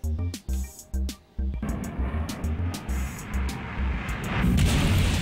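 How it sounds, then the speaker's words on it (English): Volley of six SAS-4 missiles fired at a Caterpillar ship in a space combat game, heard as a run of sharp launch bangs that swell into a thick, continuous roar of impacts and explosions growing louder toward the end. "we are shooting 6 SAS-4 missiles one more time to make sure"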